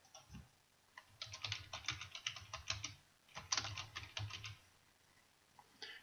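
Typing on a computer keyboard while filling in an assessment entry, two bursts of rapid, close clicking with a short pause between them, no voices.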